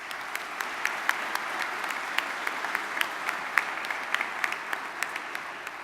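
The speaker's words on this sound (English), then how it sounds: "Let's give them a final round of applause." A final round of audience applause at a college baccalaureate ceremony honoring speakers and musicians, a steady dense patter of many hands with scattered sharper claps, moderately distant and even throughout.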